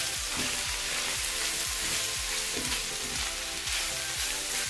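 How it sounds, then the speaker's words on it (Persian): Minced meat and onion frying in a pan with salt, pepper, turmeric and spices, a steady close sizzle with repeated scraping strokes of a spatula, no voices. "من این گوشت چرخ کرده و پیاز رو با مخلفاتش سرخ کردم"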